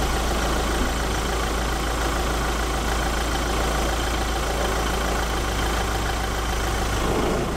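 A car engine idles steadily with a constant low rumble, close and unchanging throughout, with no talking.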